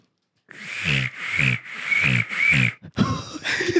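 A voice imitates a cricket with a beatbox technique, giving four sustained, buzzy chirping pulses in a steady rhythm, close and fairly loud, followed by a briefer rougher burst.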